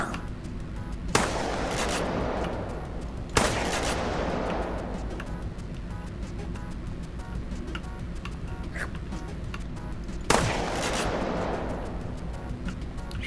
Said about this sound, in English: Sure is a nice shotgun, man.